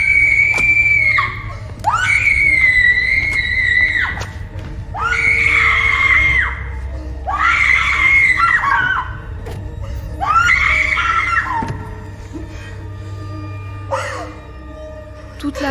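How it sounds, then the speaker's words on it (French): A woman screams in agony over and over, long piercing wails broken by short gasps, loud and close, with a steady low hum running beneath. "Hurlement de la martyre."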